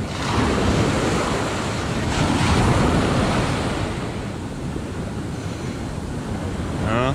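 Ocean surf at Praa Sands beach rolls in a steady, loud wash with strong wind buffeting the microphone throughout, waves breaking over stones close by.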